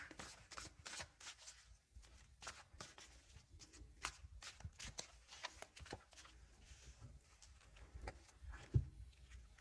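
A tarot card deck is shuffled close up in a quiet room, giving a run of soft riffling flicks and papery slaps in an irregular rhythm, with a sharper tap near the end.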